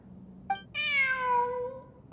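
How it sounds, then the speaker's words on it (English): A cat in Genshin Impact gives a short chirp followed by one long, clear, drawn-out meow, close and alone against faint background. "Look, a cat."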